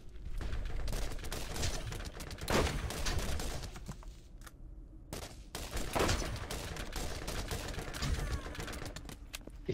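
Gunfire in the video game Borderlands rattles in rapid, dense bursts with brief gaps, loud and near, with only faint talk in the mix.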